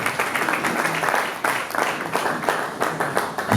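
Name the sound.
audience applause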